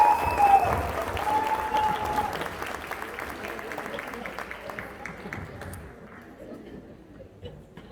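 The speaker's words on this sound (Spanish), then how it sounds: "Un fuerte aplauso a Rafaela Santiago" An audience at a Spanish-language talk on personal leadership claps in loud, sustained applause that gradually thins and fades toward the end.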